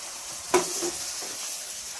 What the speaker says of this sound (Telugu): ఇలాగా టమాటా ముక్కలు కూడా వేసేస్తున్నా,